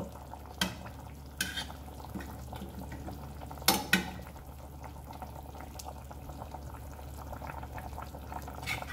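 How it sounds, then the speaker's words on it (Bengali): Fish curry gravy bubbling in a pan, a quiet steady simmering hiss with a few sharp clinks and stirring knocks of utensils against the pan, no voices. "গ্রেভি টকবক করে ফুটছে"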